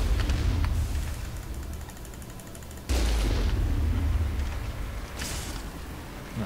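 Geth cannon fire in the Mass Effect video game, heavy booming blasts with rumbling decay, two strong shots separated by a few seconds and a lighter burst near the end.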